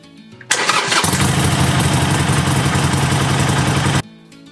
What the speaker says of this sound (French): vous avez juste à appuyer sur le bouton démarrer ici et la moto va partir